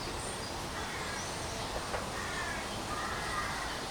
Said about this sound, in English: Why do I hear crows?